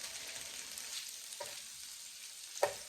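Meatballs sear in a hot pan with a soft, continuous sizzle, broken by a couple of faint scrapes and a sharper clink near the end as they are turned.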